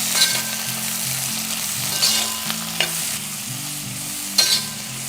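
Shallots stirred into Kerala-style beef fry sizzling in a pan, a steady close frying crackle with scraping stir strokes and a few sharper clinks of the utensil against the pan.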